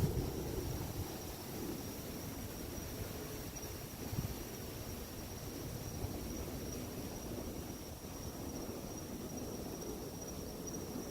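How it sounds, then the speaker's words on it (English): Steady outdoor wind rushes at night as a broad, continuous noise that buffets the microphone, with a faint high insect-like whine running throughout and no voices. "It's getting pretty windy out here"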